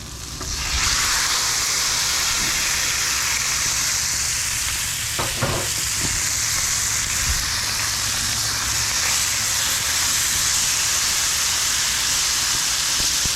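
Loud, continuous sizzling and hissing of chicken frying in a hot pan, with a few brief clinks of a utensil partway through.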